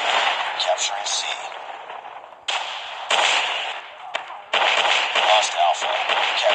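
Predator missile strike in Call of Duty Mobile: loud, harsh blasts and gunfire bursts in repeated abrupt chunks, with an announcer voice mixed in over the combat noise.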